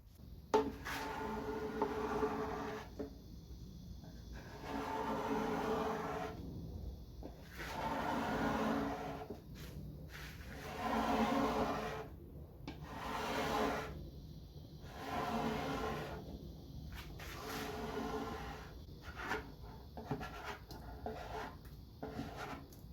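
Metal scraper dragged in repeated strokes across a wooden vintage end table, lifting wet paint stripper; rhythmic rasping passes of moderate loudness, close up, with brief gaps between strokes.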